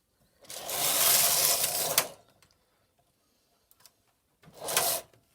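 A Silver Reed punchcard knitting machine knitting Fair Isle, its carriage giving a loud rasping mechanical sweep lasting about a second and a half, then a pause with faint clicks and a shorter second pass.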